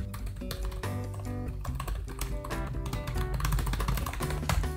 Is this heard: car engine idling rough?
no